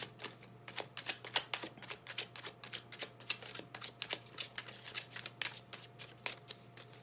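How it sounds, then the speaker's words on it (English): Playing cards being shuffled close by, a rapid series of riffling and snapping bursts repeating in an uneven rhythm over a low steady hum. "you don't have to sit through my shuffling"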